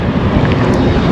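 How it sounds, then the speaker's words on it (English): Strong wind buffets a microphone while passengers board a boat in the Philippines, a steady broadband roar filling the whole short moment, close and loud, with faint voices beneath. "It's a little bit windy,"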